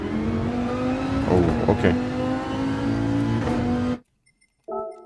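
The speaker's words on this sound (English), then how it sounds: "that sounds like a car, doesn't it?" Simulated car engine in Gran Turismo 7 drones steadily with a strong harmonic tone and a brief revving wobble, then cuts out abruptly, followed by a short burst of lighter engine sound; a voice speaks briefly.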